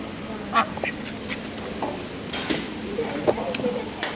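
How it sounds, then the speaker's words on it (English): Ducks at a pond let out a scattering of short, fairly faint quacks at irregular intervals, heard over soft outdoor background noise. "Here's the pond and the ducks."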